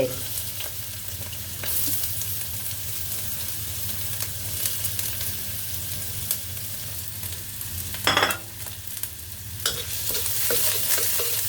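Minced garlic and onion fry in oil in a pan for kimchi fried rice, producing a steady, close sizzle throughout, with occasional spatula scrapes and a louder stir near the end and no voices.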